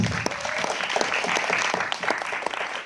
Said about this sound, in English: let's give all the projects up here a round of applause.